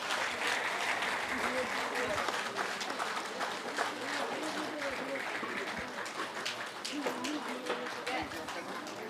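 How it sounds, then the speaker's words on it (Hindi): Sustained audience applause at a reception and interaction program, steady dense clapping filling the whole stretch with a faint voice over it. "तालियां बजती रहनी चाहिए।"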